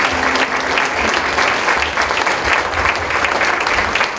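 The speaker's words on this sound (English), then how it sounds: "Let's give them a big round of applause." Awards luncheon crowd honoring support employees gives loud, sustained applause, a thick continuous patter of many hands that stays even throughout with no talking over it.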